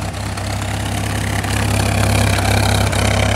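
A Triumph car engine idling on light choke while it warms up, a steady, loud, close low rumble with an even throbbing pulse and a slight rise in level, with no voices over it.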